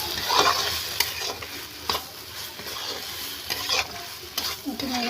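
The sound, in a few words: stirring and frying soybean and potato in a pan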